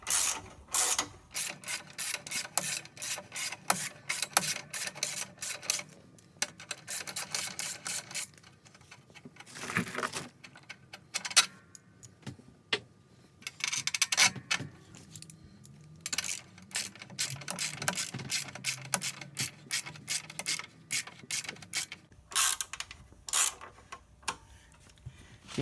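A ratchet wrench clicks in rapid bursts while bolts are undone during an SAE 14 clutch install on a dually truck, with short pauses and metallic clinks between runs, close and clear with no talking.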